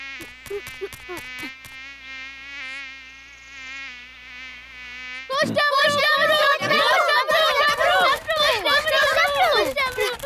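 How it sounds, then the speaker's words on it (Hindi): Swarms of mosquitoes buzz in a Hindi kids' cartoon, a steady whining drone that first hums alone after a few sharp hits, then swells louder and busier under excited cartoon voices and effects. "हमें बहुत सारे मच्छर मिले।"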